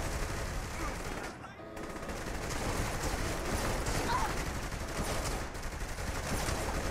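Uzi submachine gun fire in Saints Row: The Third, a dense, continuous crackle of rapid shots with a brief lull near the two-second mark, mixed with game action and a voice talking over it.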